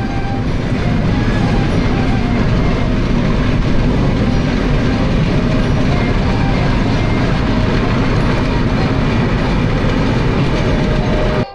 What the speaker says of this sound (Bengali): চলন বিলের বুক চিরে ঝকঝকাঝক বয়ে চলছে লাল সবুজের বিশাল আকারের ট্রেন।